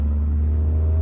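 Car exhaust as the vehicle pulls away and speeds up, a steady deep rumble with a low droning hum, close and continuous with no speech.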